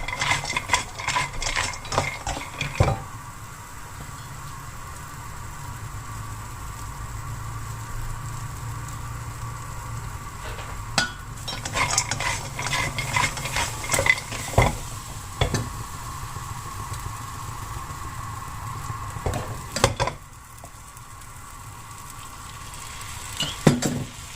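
Steady sizzling with repeated scraping and clattering of a spatula against a wok, fried chicken with cashews being stir-fried close by with no talking.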